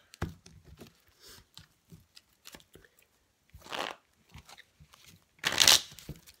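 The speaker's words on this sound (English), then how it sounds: "I could give the deck another shuffle and cut." A deck of playing cards is shuffled and cut close by, with short papery riffles and snaps separated by brief pauses and two longer riffle bursts toward the end.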